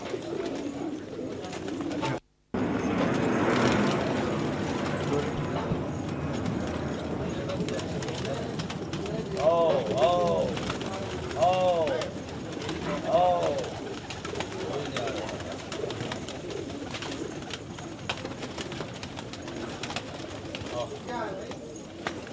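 Pigeons coo in repeated soft bursts at a crowded pigeon market in Delhi, heard through steady outdoor crowd noise and people talking nearby.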